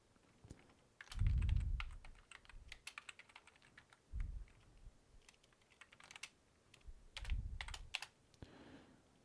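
Bursts of crisp keystrokes on a computer keyboard, close and clear, broken up by a few soft low thumps and short pauses.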